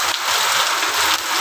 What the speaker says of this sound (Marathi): अवकाळी पावसाने लावली हजेरी.